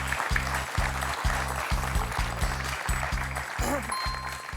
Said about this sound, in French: On peut applaudir Frédéric.